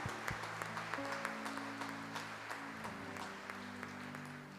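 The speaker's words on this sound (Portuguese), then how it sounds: "Mais uma vez, recebam nossos aplausos" A church congregation claps in welcome during a live service, scattered sharp claps sounding faintly over a sustained organ or keyboard chord.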